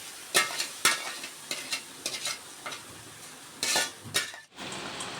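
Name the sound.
hot lentils stirred in a pan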